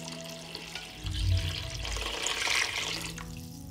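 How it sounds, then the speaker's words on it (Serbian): Water pours from a tap into a pot over fried peppers, tomato and garlic, a continuous rushing splash that swells and then settles into a steady gurgle. "Nalit ću vodu da prekrije sve sastojke."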